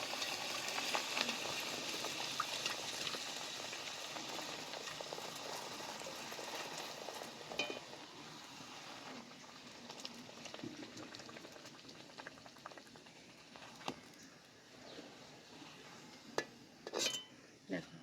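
Tricolour kachori deep-frying in hot oil, a dense continuous bubbling sizzle that stays loud and even, with a few faint metal clinks near the end.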